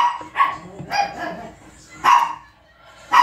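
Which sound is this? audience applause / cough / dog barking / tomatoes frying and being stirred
dog barking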